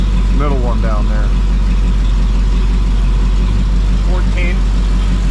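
A newly rebuilt AMC Hornet engine idles slowly and still cold during break-in, a loud steady low rumble that runs throughout under brief bits of talk from people nearby.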